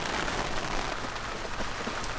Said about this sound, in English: We just started getting hit by some showers